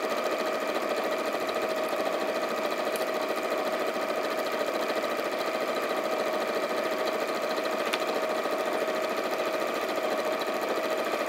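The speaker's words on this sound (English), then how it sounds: "we're just simply going to sew using that 1/4-inch seam allowance, removing either your clips or your pins as you sew." A sewing machine stitching a 1/4-inch seam on a fabric caddy runs in one long, even, steady whir with a faint mechanical chatter, moderately quiet and uninterrupted.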